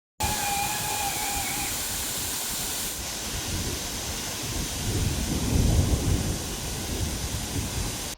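Steady, dense rain hisses during a monsoon bike ride near a waterfall, with a low rumble that swells toward the end and no talking.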